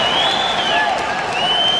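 Steady crowd applause fills an ice hockey arena after an equalizing goal in a 1988 Olympic match between the USSR and Austria, with a commentator talking over the clapping.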